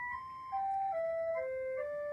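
A soprano recorder played through a foot-operated instrument plays a few sustained, clear notes stepping downward, faint against a low background hum, with no one talking.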